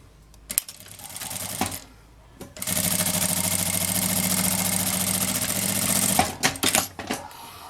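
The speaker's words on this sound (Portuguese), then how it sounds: "vou fazer uma costurinha com um pé de máquina" A sewing machine stitches patchwork fabric squares in one loud, continuous rapid whirring run of about three and a half seconds, framed by scattered clicks and handling noises before and after.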